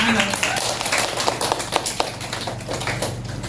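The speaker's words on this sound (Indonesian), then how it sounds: "Oke, tepuk tangan dong." A classroom of students claps hands together in a lively, scattered patter that fills the room, with some voices mixed in underneath.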